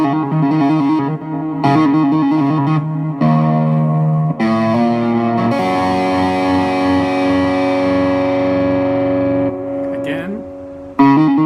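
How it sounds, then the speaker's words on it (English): Electric guitar playing a riff, with rapid tremolo hammer-ons and pull-offs on the fourth string. Heavy effects and distortion give sustained, chorus-like tones that ring loud and continuous, with a short break near the end. "So you're on the 4th string and it's a tremolo note, so hammer on and pull off on the 4th string"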